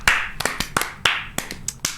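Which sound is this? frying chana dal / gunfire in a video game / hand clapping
hand clapping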